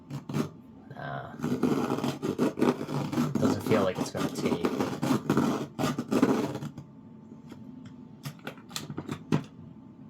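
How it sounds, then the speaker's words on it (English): A Dahle pencil sharpener grinds a wooden pencil in a long, rough, close rasping burst, then falls into a few lighter scrapes and clicks. The sharpener leaves an uneven, off-centre point. Someone speaks briefly. "See if this one will sharpen up nice."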